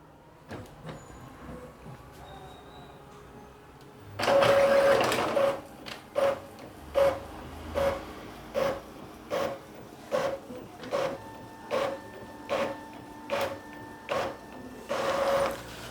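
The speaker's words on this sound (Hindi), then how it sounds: "यहाँ पे ज़ेरॉक्स वगैरह हो रहा है" An Epson L3210 ink-tank printer photocopies a black-and-white page. A quiet start gives way to loud, rhythmic mechanical strokes repeating about every second as the page feeds through, with no talk.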